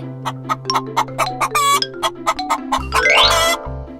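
A chicken clucks in a quick string of short, sharp bursts, close and loud, with a light musical backing and a rising chime near the end.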